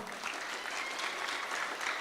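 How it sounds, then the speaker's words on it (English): Students at a high school honor roll recognition applaud their parents in a short, steady burst of clapping that is fairly faint and even. "let's give all of our parents that are here a big one, round of applause"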